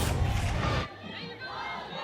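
Crowd noise at a college softball game, Clemson versus Gardner Webb, a loud burst of cheering from the stands that cuts off abruptly after under a second, leaving quieter murmur behind.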